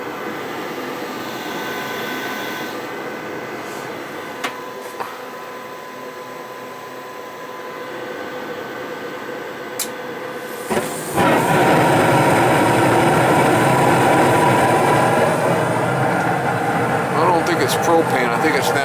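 A propane gas furnace lights, first a quiet stretch of low hum with occasional clicks, then a sudden loud roar of burner and fan that keeps running. Someone talks over it.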